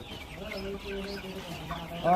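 A colour bird broiler chicken on a poultry farm clucks softly nearby, with a louder squawk near the end and faint background voices.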